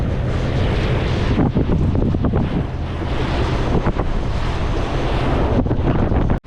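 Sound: stormy sea waves and wind on the shore

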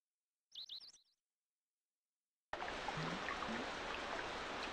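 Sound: bird chirping in the video game Secret of Evermore

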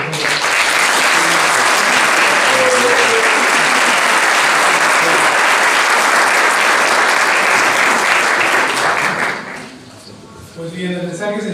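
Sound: audience applause

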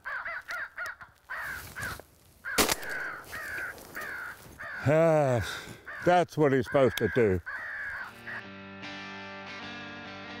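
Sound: crows cawing as they come to the call

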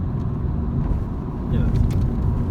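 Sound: car accelerating and shifting up a gear

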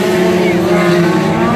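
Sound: race cars passing on the track

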